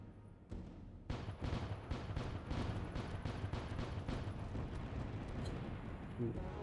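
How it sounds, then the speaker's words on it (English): Ship cannons fire in the space sailing game Void Sails as a sudden, loud volley of rapid booms that runs on as a dense, continuous barrage. "But I can turn around and shoot the other cannons"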